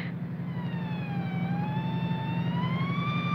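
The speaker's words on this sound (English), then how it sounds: "Sounds like a motorcycle cop." A police motorcycle siren wails loud and close in a 1945 film scene, its rising and falling tone held over a low, throbbing engine hum.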